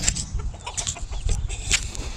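A flock of farm chickens clucks and squawks nearby in a busy, overlapping chorus with sharp high calls scattered throughout, over low background rumble and no speech.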